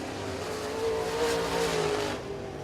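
Race cars finish a heat race on a dirt track, engines revving and droning as they pass, rising to a louder surge in the middle before easing off.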